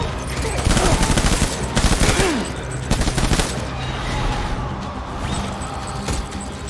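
Heavy gunfire in Death Stranding erupts in loud bursts of automatic fire and sharp impacts, clustered in the first few seconds and then thinning into scattered shots over a rumbling background.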